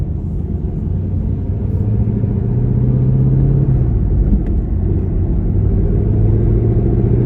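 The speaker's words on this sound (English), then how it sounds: "I just wanted to show you how easy it is to drive this car quiet." A car with a Corsa Extreme Plus cat-back exhaust burbles low and smooth at light throttle, a steady deep exhaust rumble with a slight shift in pitch midway.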